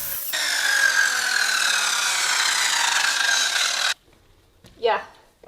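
Oscillating multi-tool cutting out wooden corner pieces in an existing doorway, a loud, close, steady buzzing rasp for about four seconds that stops abruptly, then a short voice.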